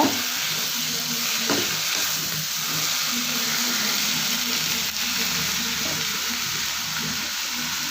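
Drumstick leaves and peanuts fry in a pan with a steady, close sizzle and hiss, stirred now and then, with one sharp clink near the start and no voices.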